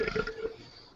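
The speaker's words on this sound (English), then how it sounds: "He just burped" A short, low, gurgling burp from a person, heard close and fading out within a second, with no talk over it.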